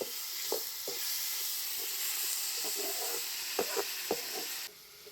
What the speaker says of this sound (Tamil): தக்காளி வந்து பார்த்திங்கன்னா நல்லா வதங்கட்டும்.